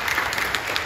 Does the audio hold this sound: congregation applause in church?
yes